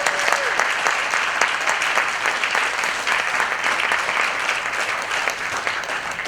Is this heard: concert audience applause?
yes